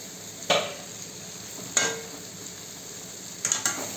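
A spatula stirs cabbage bhaji with plenty of freshly chopped coriander in a pan, giving a few soft, isolated scrapes spaced a second or two apart over a faint, quiet background.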